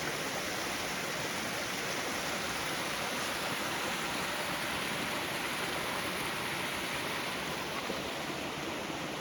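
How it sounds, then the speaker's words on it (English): A waterfall cascades on the Appalachian Trail in the White Mountains, making a steady, dense roar of rushing water that fills the air evenly without a break. "Let's see if I can get the cascade a little better."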